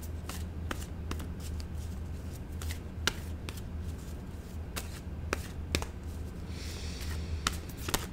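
Oracle cards being shuffled by hand: repeated soft riffling and sharp slapping clicks at irregular intervals over a low background hum, close and fairly quiet, with no speech.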